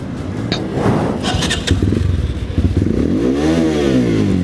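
A Bajaj Dominator 250 motorcycle on a test ride in Nepal, its engine running loud and close with a steady rumble that climbs and falls in a revving sweep toward the end.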